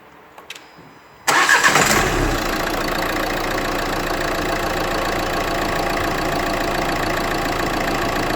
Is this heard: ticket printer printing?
no